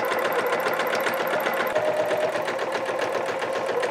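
A sewing machine running steadily while stitching a placket on a child's coverall, a fast even needle rhythm heard close and alone.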